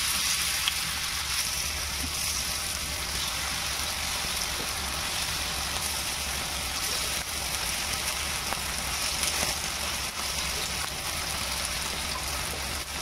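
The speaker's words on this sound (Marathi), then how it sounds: "चला आता आपण भांड्यात तेल टाकून घेऊ चिकन तळण्यासाठी।" Chicken pieces sizzle steadily in hot oil in a pot, a dense, even crackling hiss that holds at the same close level throughout with no talking.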